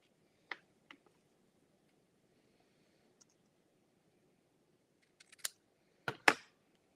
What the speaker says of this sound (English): Just take a fraction off that with the scissors.